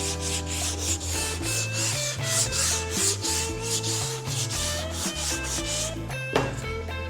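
Hand sanding on a 1965 Rambler body panel with 220 grit sandpaper gives steady, rhythmic rubbing strokes, heard close up beneath a prominent tonal music bed with no talking.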